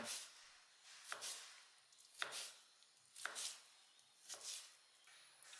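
Knife chopping elephant foot yam lengthwise for aviyal, five sharp, evenly spaced cuts about a second apart, close and fairly quiet, each a crisp blade strike through firm flesh onto a board, no talk.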